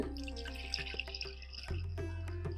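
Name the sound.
water draining through a sieve from washed barnyard millet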